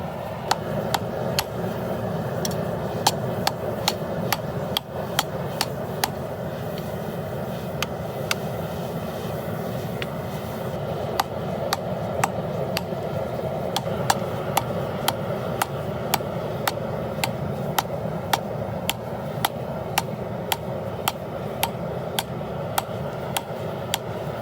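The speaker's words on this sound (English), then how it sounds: "I think I'm almost done forging the blade of it, and I'm gonna forge the handle a little bit to make it a little longer" Hammer blows on hot steel as a knife blade is forged from an old rasp, a steady run of sharp ringing strikes at uneven intervals over a constant loud roar, likely a forge blower.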